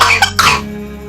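A single, close, loud cough bursts out in a few quick rough pulses and stops sharply, leaving a faint low hum.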